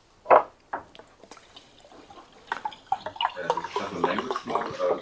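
Water pours from a bottle into a glass in a room, a burbling, splashing stream that builds toward the end after a few clinks and knocks.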